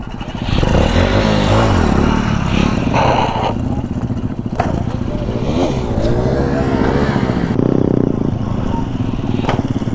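A motorcycle engine revs hard and unevenly while the bike is held up in a wheelie, rattling and rising and falling in pitch close by, with someone talking over it.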